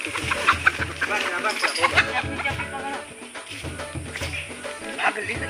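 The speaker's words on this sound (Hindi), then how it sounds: "भाग गई मुर्गी" A loose chicken clucks in an outdoor chase, repeated nearby clucks and squawks mixed with people talking and moving around.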